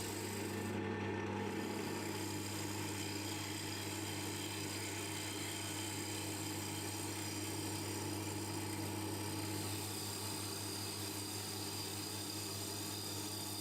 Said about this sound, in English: crank up the speed of the lathe, and I can try doing some long passes from top to bottom to smooth everything over.